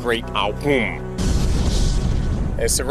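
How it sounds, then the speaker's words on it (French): A deep volcanic eruption boom erupts after a second of talking, a sudden loud broadband blast that rumbles on steadily to the end, with a voice briefly over its tail. "le grand boom"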